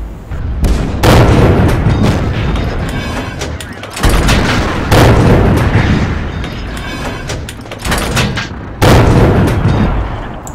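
Heavy tank cannon shots and shell impacts on a KV-1 in a tank combat video game, a series of loud booming blasts with rumbling tails, spaced a few seconds apart.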